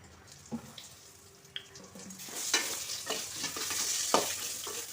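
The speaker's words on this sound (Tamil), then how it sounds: "மிளகா வறுக்கிறதுக்கு மட்டும் நம்ம சொட்டு எண்ணெய் விட்டுக்கிறோம்" Dried red chillies fry in a few drops of oil in a pan. Light clicks and taps of stirring come first, then a rising, steady sizzle with scraping stirs continues to the end.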